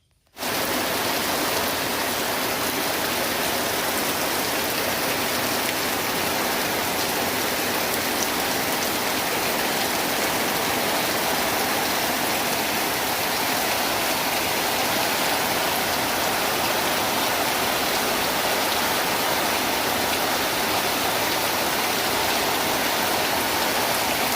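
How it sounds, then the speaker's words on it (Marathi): Heavy rain pours down steadily and loudly, a dense, unbroken hiss of drops that continues for the whole stretch with no voices. "इकडे ना पावसाला जोरदार सुरुवात झाली"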